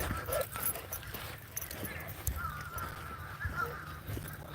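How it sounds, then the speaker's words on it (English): Outdoor birds give harsh, honking, goose-like calls in short scattered bursts over a rough background of ambient noise. "Oh, the birds are laughing at me."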